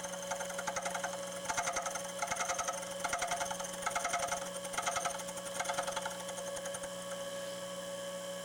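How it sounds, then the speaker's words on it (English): A slitting blade cuts grooves into a metal cutter blank on a machine, a steady mechanical whir with rhythmic bursts of cutting chatter that come and go, then settle into an even running hum. "a slitting blade does a cleaner job and leaves less of a burr between each one of those grooves"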